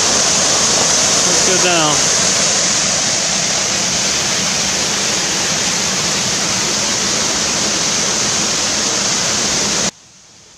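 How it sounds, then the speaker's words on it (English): Long Creek Falls on the Appalachian Trail gives a loud, steady rushing roar of falling water close by, with a brief spoken remark near the start before the sound cuts off abruptly near the end. "Long Creek Falls, if you can hear me, this is gorgeous."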